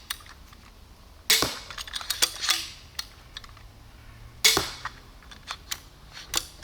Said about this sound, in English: So if you want to shoot, it is so quick to fire.